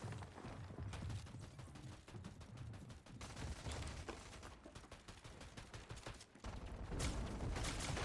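Shotgun blasts and other weapon fire in a competitive battle-royale-style building game, a dense, busy barrage of overlapping shots and clattering effects throughout, loud and continuous with no clear gaps.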